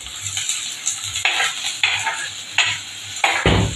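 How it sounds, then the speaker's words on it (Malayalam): Chopped small onions (shallots) sautéing in a pan as a child cooks, with five or six bursts of a spatula scraping and clinking against the metal over a faint steady sizzle, close and moderately loud. "ഞാനിതിപ്പോൾ വഴറ്റുവാണ്"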